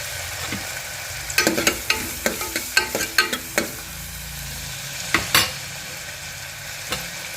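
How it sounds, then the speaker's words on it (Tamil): Small onions and tomatoes sauté in a pan, a steady soft sizzle broken by sharp clicks and scrapes of a spoon stirring against the pan, close by with no talk. "ஓரளவு தக்காளி வெங்காயம் எல்லாம் நல்லா வதங்கிருச்சு"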